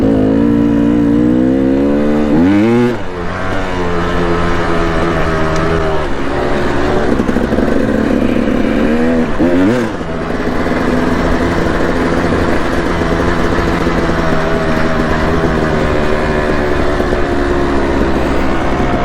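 A Yamaha YZ450FX and a KTM 300XC dirt bike ride on trails at 5 Mile Pass, Utah, engines droning loudly and steadily close by, revving up and down with two sharp shifts in pitch.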